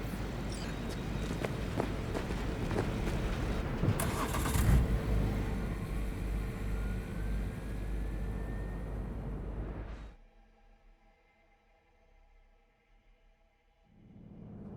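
In the Cyberpunk 2077 video game, footsteps and rustling lead to a car door, then the engine starts and the car pulls away with a rising rev. The engine fades to a quiet idle hum before swelling again.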